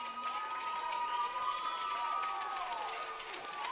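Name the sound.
fans applauding both teams at a hockey game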